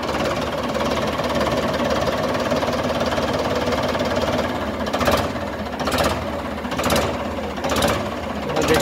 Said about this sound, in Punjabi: ਆਵਾਜ਼ ਦੇਖੋ ਜੀ ਇਹਦੀ ਟਰੈਕਟਰ ਦੀ